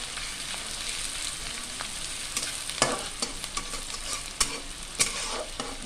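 Onions fry in a small amount of oil for duck curry, a steady close sizzle with intermittent scraping and clinking as a spatula stirs them around the pan.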